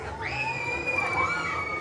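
Distant screams begin rising from riders as a spinning disc ride at an amusement park picks up speed, a continuous crowd roar with one sustained high shriek standing out.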